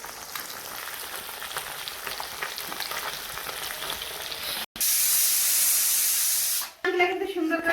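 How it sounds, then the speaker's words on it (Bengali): Fish frying in hot oil in a wok in a village kitchen: a continuous close sizzle and hiss, swelling into a louder, brighter spitting burst near the end, then cutting briefly. "সুন্দর করে লাল লাল করে ভেজে দিয়েছি"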